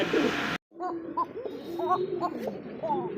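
A pair of big Afsan racer pigeons coo in short, repeated low calls, fairly close and moderately loud after a brief burst of noise at the start.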